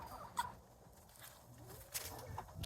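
Hens cluck softly inside a chicken coop on a bitter cold day, with a few faint, scattered clucks and calls over low background rumble.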